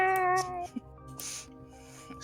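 A house cat meows after slipping and falling off a desk, with a clear drawn-out cry up close followed by a quieter, shorter mew and faint rustling.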